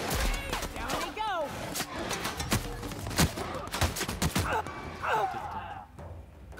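Rapid bursts of gunfire in the video game The Outer Worlds, loud sharp shots overlapping in a dense, continuous firefight with game effects and some vocal sounds mixed in.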